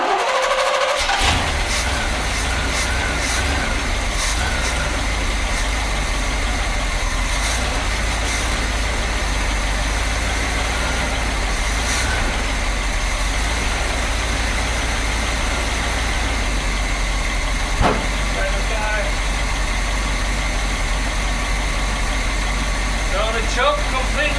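A 1973 Corvette Stingray with a 454 V8 and new ignition parts starts, then settles into a loud, steady, deep idle that rumbles unbroken throughout.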